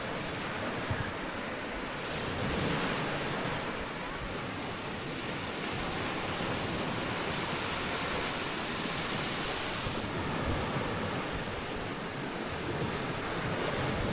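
Steady wash of sea waves breaking on the shore at Barangay Tinagong Dagat, Nara, broad and continuous with gentle surges, mixed with some wind noise and no voices.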